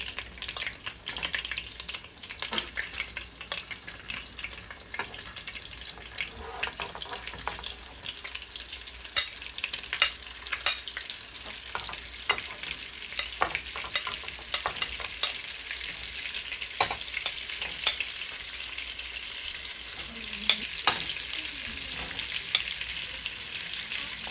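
Meatballs from a three-meat blend sizzle and fry steadily in a hot pan, a continuous crackling hiss with scattered pops and occasional stirring, close and moderately loud throughout with no talking.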